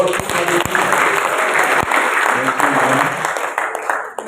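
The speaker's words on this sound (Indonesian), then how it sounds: "kita tepuk tangan buat tim Presiden" Sustained applause from a church congregation at an Ascension Day service, many hands clapping in a thick, even roar with a few sharper claps standing out, easing slightly toward the end.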